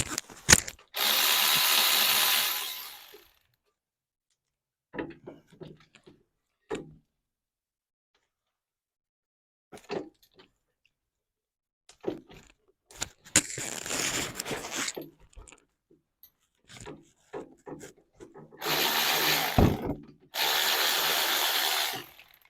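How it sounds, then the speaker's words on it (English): Power tool bursts loosening the rear brake caliper bolts on a 2012 Subaru: several loud, sustained whirring runs of a few seconds each, separated by quieter clicks and clatter of tools and sockets. "First thing we're gonna do, we're gonna take the bolts off from the caliper."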